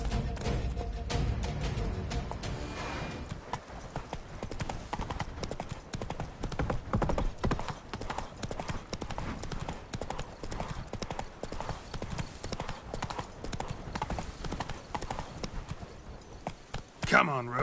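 Hooves of the horse Roach clip-clopping in The Witcher 3: Wild Hunt, a steady walking rhythm running throughout alongside game music and effects.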